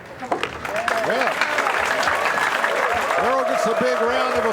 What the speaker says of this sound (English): Earl gets a big round of applause as he puts his second 9-ball